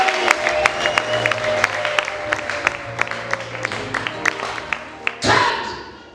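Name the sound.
church congregation applauding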